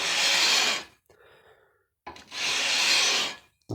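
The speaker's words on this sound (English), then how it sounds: "I've got some 220 and some 320 sandpaper on there, and literally just going to work my way down the board" Two long, close, raspy strokes of a sanding beam fitted with 220 and 320 grit sandpaper pass along a wooden guitar fretboard, separated by a short quiet pause.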